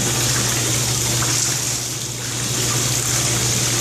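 Water runs from a tap after a water heater, a steady loud gushing rush with a low constant hum beneath it, close and uninterrupted for a few seconds, no talking.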